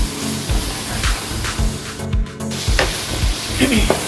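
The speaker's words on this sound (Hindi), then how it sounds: "मसाला अच्छी तरह हमारा भुन चुका है।" Masala for Punjabi kadhi fries in a pan with loud, close sizzling that swells and fades in repeated bursts as it is stirred. Stirring knocks and scrapes recur roughly every half second.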